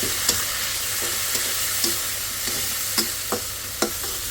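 Food frying in a pan as its moisture cooks off, a steady sizzle broken by several sharp scraping stirs of a spatula at irregular intervals, close and alone.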